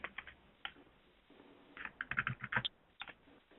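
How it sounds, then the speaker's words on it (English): Computer keyboard typing at a desk, with scattered single keystrokes followed by a quicker burst of clicks, close and fairly quiet with no voices. "So I'm just going to type some things in here."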